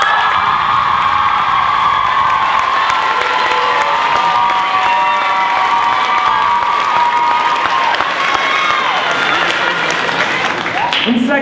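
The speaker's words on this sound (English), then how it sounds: "big round of applause for Courtney and JJ" A large audience at a talent show claps and cheers loudly and continuously, with whoops and shouts rising over the sustained applause.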